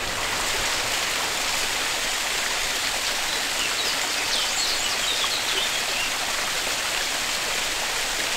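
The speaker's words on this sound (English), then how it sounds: "And here it is, the Tillingbourne Waterfall." Tillingbourne Waterfall at Friday Street in Surrey, pouring steadily with a dense, even hiss of falling water, close and constant throughout with no voices.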